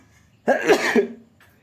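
A single harsh cough up close, one burst lasting under a second, with near silence before and after.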